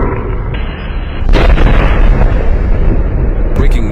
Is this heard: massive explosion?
yes